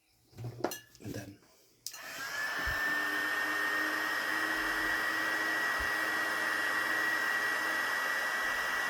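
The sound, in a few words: heat gun blowing hot air to shrink heat-shrink tubing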